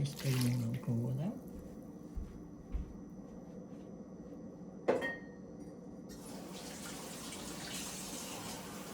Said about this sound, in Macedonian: Ги ставиме малку вода.